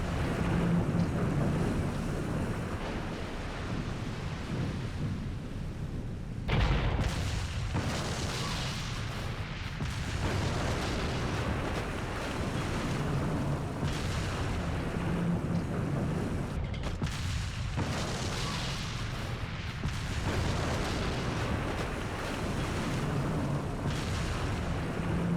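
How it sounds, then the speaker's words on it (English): In Resident Evil 4 Separate Ways, a ship at the docks explodes and sinks with a dense, loud roaring rumble and washing, wave-like noise. Heavy crashes break through, and the roar drops off briefly before surging back. "the ship that's in the docks, particularly when it explodes and sinks"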